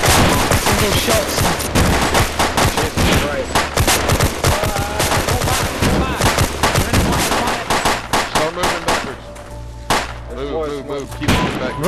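Dense, loud firefight in ArmA 2 with a zombie horde: rapid crackling gunshots overlap in a near-continuous stream for twelve seconds, thinning slightly near the end, with brief voices underneath.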